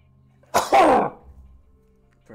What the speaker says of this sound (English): Wait, I'm about to sneeze.